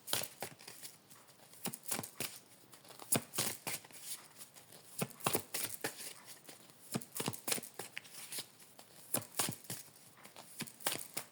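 Playing cards shuffled and drawn close up, a fast run of crisp riffling flicks and snaps in uneven bursts, fairly quiet with no talk.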